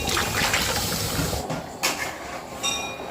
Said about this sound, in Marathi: मिक्सरचं भांड धुवून पण पाणी टाकायचं